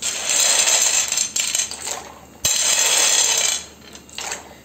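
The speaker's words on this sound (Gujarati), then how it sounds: "પાસ્તા એડ કરી દઈશું" Dry penne pasta poured into a pot of salted water heated for boiling gives two close, loud bursts of rattling clatter, separated by a brief lull, with no voices.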